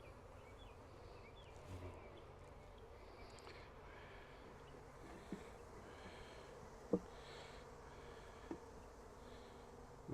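A soft, steady buzz of many honeybees fills the background during hive work, faint and constant, with a few small knocks and taps of frames and boxes now and then.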